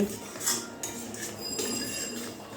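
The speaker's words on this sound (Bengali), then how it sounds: "এবারে জলটা মশলার সঙ্গে খুব ভালো করে মিশিয়ে দিতে হবে" A spoon stirs hot water into fried spices in a pan for a Bengali koi fish curry, making a steady wet swish with light metallic clinks and scrapes against the pan.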